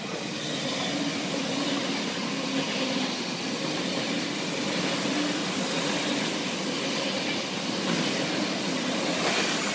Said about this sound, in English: Oh, here comes the train.